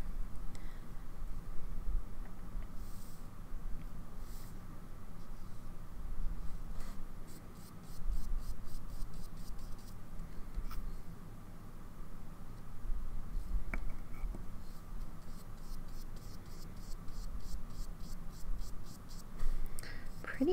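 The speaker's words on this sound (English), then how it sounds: "based on writing from the dip nib and also just applying this here" A dip nib pen scratches across paper in soft, faint, intermittent strokes, close and quiet against a light background hiss.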